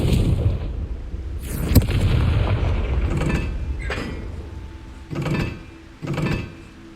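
The Confringo explosive spell is cast in Hogwarts Legacy, giving a rumbling blast followed by several short whooshing bursts that come and go, loud and close with no talk.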